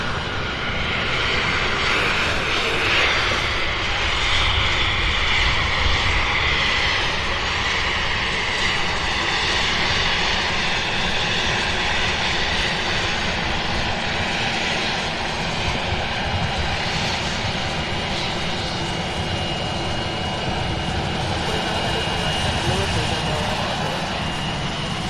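Airliner taxiing on the ground at Louisville International Airport, a steady, loud broadband jet engine roar that holds throughout with little change, while people talk over it.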